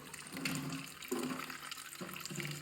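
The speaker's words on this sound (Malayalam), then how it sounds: "ഞാൻ ഇതിലോട്ട് വെള്ളം നിറച്ച് വെക്കും" Tap water fills a container at a sink. The stream is close and continuous, and its pitch and level shift a few times as the vessel fills, with no talking.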